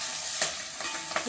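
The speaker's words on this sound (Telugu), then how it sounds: "తర్వాత ఆనియన్స్ కొంచెం తిప్పండి." Green chillies and onions stirred while frying in a pan for veg kadai biryani, a steady close sizzle with a few scraping stir strokes breaking through, no voices.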